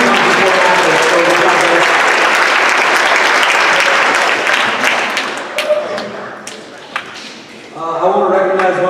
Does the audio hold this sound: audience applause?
yes